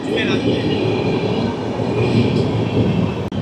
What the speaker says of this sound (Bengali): এটা হচ্ছে আজমের শিয়ালদা এক্সপ্রেস